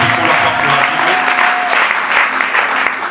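A church congregation breaks into sustained applause and cheering at an eleventh-anniversary celebration and ordination service, a dense, loud wash of clapping across the whole stretch with a steady tone held underneath.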